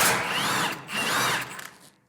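A power tool whirs in two short, loud bursts close by, removing an 18 mm shock bolt on a 2024 RZR XP 1000, then a few small clicks as it winds down.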